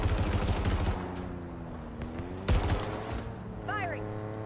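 Gunfire in the Halo Infinite video game during a Pillar Assaults match: a burst of rapid shots at the start, a second sharp blast midway, and game voices and effects layered in.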